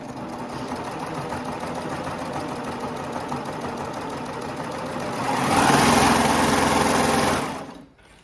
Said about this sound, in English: as I serge this back seam closed